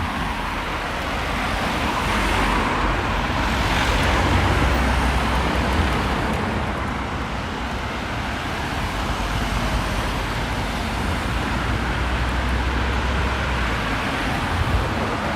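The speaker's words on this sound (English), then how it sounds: "Here comes the next batch of cars." Road traffic near traffic lights, cars passing in a steady continuous wash of tyre and engine noise, fairly close and loud, with no voices.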